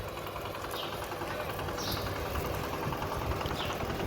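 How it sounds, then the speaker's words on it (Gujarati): A tractor engine chugs steadily on a village track while a visiting guest drives it. The low, rumbling idle stays close and even throughout, with faint background voices underneath. "આપણી ઘરે મહેમાન આવ્યા છે તે ટ્રેક્ટર હાકે છે"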